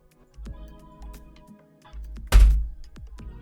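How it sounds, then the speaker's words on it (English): A computer keyboard, a stand-in while a new one is awaited, drops with a single loud thud and clatter partway through, preceded by a few softer bumps and handling knocks at a desk. "You hear that bang? That's me dropping my keyboard."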